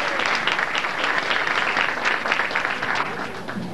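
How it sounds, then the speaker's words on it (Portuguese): Sustained applause from a crowd at a graduation ceremony, dense and steady clapping throughout with no pauses. "Também o nosso abraço e a salva de palmas de todos."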